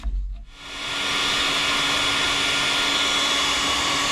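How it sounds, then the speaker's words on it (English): A heat gun shrinking heat shrink tubing on extra wiring for a Jeep switches on with a brief thump and settles into a loud, steady close-up whooshing roar that holds to the end. "I'll get the heat gun, I'll get that on, and that will take care of that."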